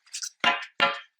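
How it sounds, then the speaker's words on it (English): Three quick, close riffling bursts of tarot cards being shuffled, each a crisp flutter that fades fast. "Let me just shuffle one more time."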